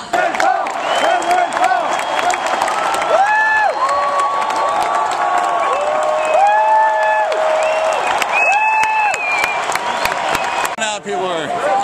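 A large rally crowd at UCLA cheers and applauds Ron Paul's speech, a loud continuous roar of clapping and shouting with whistles and chants rising over it, close and sustained throughout.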